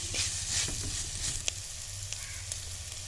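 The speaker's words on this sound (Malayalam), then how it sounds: "നല്ലതുപോലെ ഇതൊന്ന് വഴറ്റിയെടുക്കണം." Curry leaves and duck roast masala frying in a pan, a continuous moderate sizzle with a low rumble beneath and a few faint scrapes of stirring.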